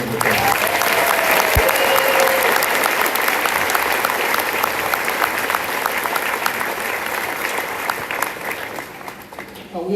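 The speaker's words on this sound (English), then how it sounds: "Can we give them one more round of applause?" An audience gives sustained, loud applause for the student musicians after a massed band concert, dense clapping filling the room for the full ten seconds, with a few scattered voices and cheers mixed in.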